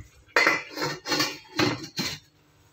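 A metal lid set down on a pot of cauliflower and koi fish curry, clanking and rattling in four or five loud, close metallic hits over about two seconds before the kitchen goes quiet.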